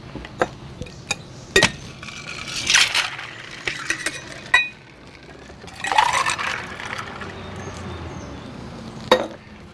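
Pineapple-orange juice is poured into a Goombay Smash cocktail with a short rising gurgle, among sharp glassy clinks and ice knocks scattered through the quiet.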